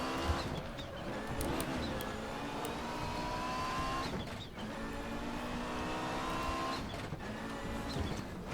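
An Audi 90 Quattro IMSA GTO race car engine in the video game RaceRoom Racing Experience roars steadily, pitch climbing and dropping through gear shifts, with brief dips in revs; no talking.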